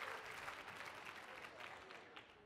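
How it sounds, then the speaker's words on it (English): A round of applause at a 2017 conference session, steady broadband clapping from an audience for a woman who just made a good throw, lasting throughout at moderate level with no talk over it. "Big round of applause for Carrie."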